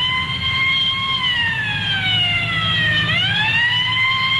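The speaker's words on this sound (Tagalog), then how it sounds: "Ambulansya." An ambulance siren wails steadily and loudly, its pitch sliding slowly downward then swooping back up, with a low engine rumble underneath throughout.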